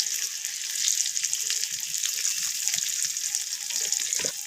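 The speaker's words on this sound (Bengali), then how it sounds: "তো পটলগুলোকে একটু লালচে করে আমি ভেজে নেব।" Pointed gourd pieces sizzle steadily in a pan of hot oil, seasoned with turmeric and salt, a dense close crackling hiss with faint clinks of utensils near the end.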